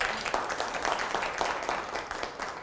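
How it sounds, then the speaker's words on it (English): Audience applause at an HR benefits and risk management event, a steady spread of many hands clapping at moderate distance, continuous for a few seconds without talk. "So big round of applause for them."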